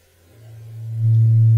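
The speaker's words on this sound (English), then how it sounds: "we can hear a sine wave" A sine wave from a Doepfer LFO feeding the linear FM input of a Eurorack modular oscillator, a pure steady low tone that fades in and swells to full volume.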